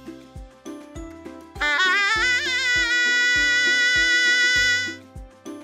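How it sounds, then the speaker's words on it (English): Shehnai, a double-reed wind instrument associated with wedding ceremonies, plays a sustained, bending melody over a steady rhythmic accompaniment of plucked or drummed beats, loud and alone without talk. "That was the sound of shehnai."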